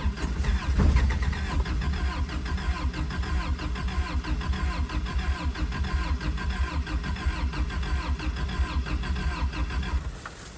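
A 1984 Toyota truck engine cranks and catches, then runs with a steady, pulsing mid-pitched idle close by for about ten seconds before cutting off.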